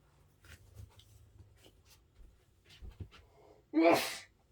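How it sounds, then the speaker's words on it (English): Quiet shuffling and small tapping sounds lead up to one sharp, close sneeze near the end, during flower die-cutting work. "Oh, I'm going to sneeze."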